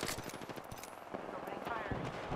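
Rapid gunfire in the battle royale game Apex Legends, dense bursts of automatic shots crackling over a busy game mix with in-game voice lines underneath.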